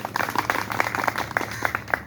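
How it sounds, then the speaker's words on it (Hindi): An audience claps at a party workers' conference in Mainpuri, with scattered, moderate hand claps landing in an irregular rhythm that sounds somewhat distant in a large hall. "आप इस संस्थान में जितने लोग लगे सबके लिए जोरदार तालियां दीजिए।"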